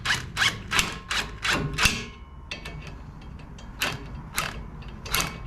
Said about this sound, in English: Got my impact just to snug them down just a little bit.